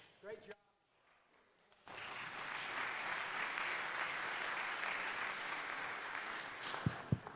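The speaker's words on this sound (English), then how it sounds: "Let's give these guys a round of applause." Sustained audience applause at a community meeting on planning for food shortages, starting abruptly after a brief moment of talk and a quiet pause, then steady and full for several seconds with a couple of sharp knocks near the end.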